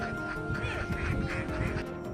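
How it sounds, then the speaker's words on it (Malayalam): Ducks quack and honk beside Vellayani lake, a busy flock heard close and continuously over steady wind noise, with overlapping calls and no clear talk. "ഈ താറാവുകളുടെ സൗണ്ടും"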